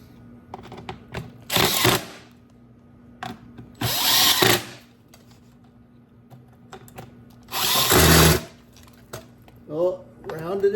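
A cordless drill drives in short bursts during a shop stool repair, three loud whirring runs of a second or so separated by clicks and handling noise, with a voice speaking in the gaps.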